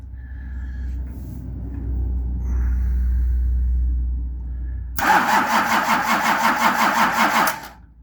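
A Nissan LD28 diesel engine in a truck, after a low background hum, cranks suddenly in a loud, rhythmic churning burst for a couple of seconds before cutting off.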